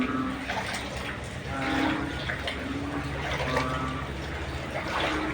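Floodwater in Mindanao rushes and churns without pause, a dense, continuous roar close by and loud, with faint voices now and then beneath it.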